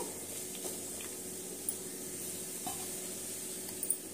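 Raw banana slices frying in a pan over medium flame, a soft continuous sizzle with occasional light clicks of stirring, close and steady, no voices.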